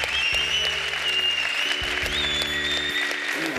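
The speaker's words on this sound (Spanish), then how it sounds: "Un aplauso al papá" Audience applause at a dance show casting, steady clapping from a crowd throughout, loud and close, with music tones running over it.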